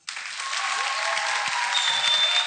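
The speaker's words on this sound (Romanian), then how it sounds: "aplauzele astea sunt pentru tine" A television studio audience breaks into sudden, full applause during a magic act on a talent show, a dense and even wall of clapping that holds steady at moderate volume throughout.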